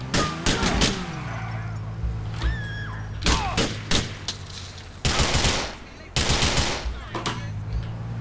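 Bursts of gunfire in GTA IV: sharp repeated shots and rapid volleys in several clusters, loud and close, over game sounds with brief spoken lines.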